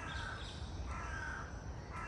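Crows caw outdoors in a village in the early morning, several distant harsh calls repeating in a slow rhythm over soft background noise.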